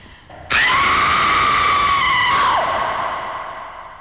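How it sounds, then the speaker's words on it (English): A woman lets out a single sustained horror scream, loud and close, starting abruptly, holding a piercing steady pitch for about two seconds, then breaking off into a fading echo. "That's a pure horror scream."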